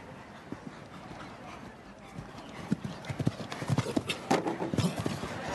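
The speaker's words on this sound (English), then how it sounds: "He just gets a really good gallop going and then just lets him go." Show jumping horse galloping in a Nations' Cup arena in Calgary, rhythmic hoofbeats growing louder and closer in the second half, with faint crowd or commentary underneath.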